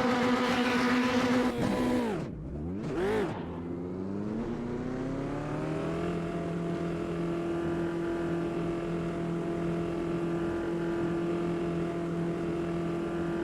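Race car engine in the sim racing game Automobilista 2, a loud droning motor that revs and dips sharply, then settles into a steady high-pitched whine with road noise underneath.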